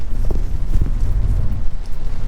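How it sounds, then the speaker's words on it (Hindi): Rain falling outdoors: a dense, close patter of drops on surfaces, fairly loud and steady throughout, with no talk over it. "it's raining"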